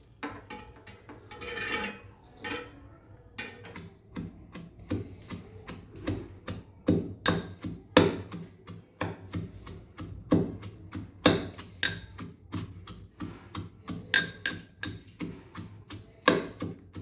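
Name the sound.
pounding fried green chilies and garlic into thecha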